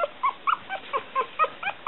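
A one-week-old mixed Smooth Coat Collie, Coon Hound and Pomeranian puppy whimpers in a quick series of thin, high squeaks and whines, faint and close, with no voices.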